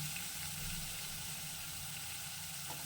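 Ginger and tomato paste sizzling in oil, a soft steady hiss that stays faint and even throughout.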